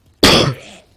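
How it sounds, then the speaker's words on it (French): A single short cough, loud and close, lasting well under a second, with no talk around it. "Je tousse"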